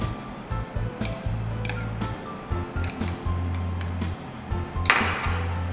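Fennel powder, amchur powder and salt are mixed in a bowl with a spoon, giving repeated close clinks and taps of metal against the dish in an uneven rhythm.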